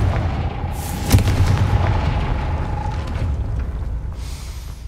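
A Confringo fire spell goes off in Hogwarts Legacy, a sharp blast at about one second followed by a rumbling tail under a steady bed of game ambience and a thin sustained tone.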